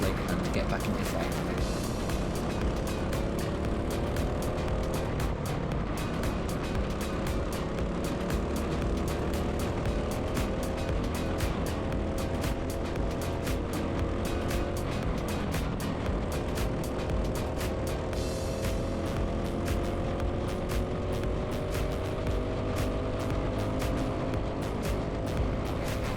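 A race car on track braking into a hairpin and chasing the pack, its engine a constant loud drone with shifting pitch sweeps as revs rise and fall, continuous for the whole stretch with a voice talking over it.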